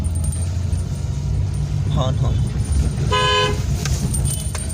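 A car horn gives two short toots from a learner car moving slowly through narrow lanes during a driving lesson. The horn rises over a steady low engine rumble, with someone talking nearby.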